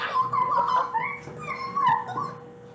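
A dog in the Roblox game Survive the Watchtower whimpers and yelps in high, plaintive whines, several rising and falling cries in a row, heard clearly with no talk.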